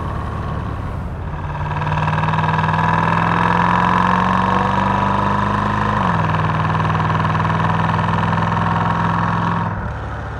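Chevrolet Corvette C3 with an L-48 small-block V8 and near-factory exhaust, idling with a steady, loud, close low burble that holds evenly for several seconds before easing off.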